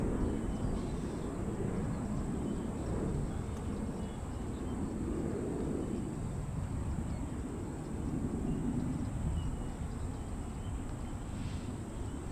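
A JetBlue jet airliner taking off at Orlando International Airport gives a steady, broad engine roar that holds for the whole stretch, heard from some distance with no voices.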